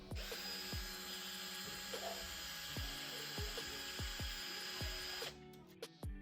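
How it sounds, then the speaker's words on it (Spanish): A power drill removes screws from a bathroom door lock, running in a steady high whine for about five seconds with faint clicking taps under it, then stopping with a few short knocks. "Aquí le vamos a quitar estos tornillos para poder pasar los postes por aquí."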